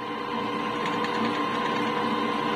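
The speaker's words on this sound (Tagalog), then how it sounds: "maglalagay tayo habang umaandar yung ating mixer" An electric stand or hand mixer runs steadily while beating red velvet cookie batter, a continuous close motor whir with a constant tone and no pauses, heard alone without talk.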